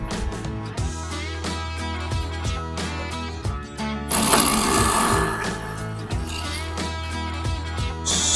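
Air conditioner compressor switched on during a pressure test with a gauge fitted to the discharge line, giving a steady mechanical hum with rhythmic knocking and a louder, harsher stretch midway.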